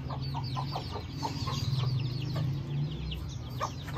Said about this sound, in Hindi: ये बहुत डेंजरस मुर्गी है